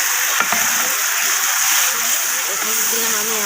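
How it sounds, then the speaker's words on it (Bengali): Onions frying in a pan with spices added sizzle loudly and steadily in a dense hiss, with a brief clatter of something tipped in near the start. "আমি পেঁয়াজটাকে লাল করে ভেজে নিব।"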